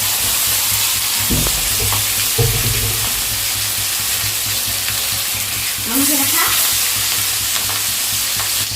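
Pieces of katla fish with roe inside frying in a pan, giving a loud, continuous close-up sizzle with a few brief bumps and stirring sounds, and a short voice near the end.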